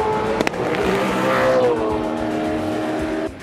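Supercar racing car driving on a racetrack. The engine note climbs and sweeps through revs as the car passes, loud and brief, and ends abruptly. No voices.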